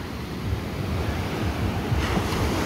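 Ocean waves at Bavaro Beach in Punta Cana roll in with a steady broadband surf roar, wind buffeting the microphone, swelling slightly louder near the end.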